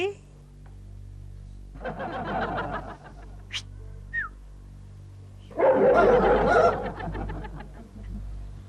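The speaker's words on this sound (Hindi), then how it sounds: "ये भौंकने की आवाज कहाँ से आई?" A dog barks in a comedy TV sitcom scene, with two bursts of barking and yapping a few seconds apart, loud and close, and faint background sounds between them.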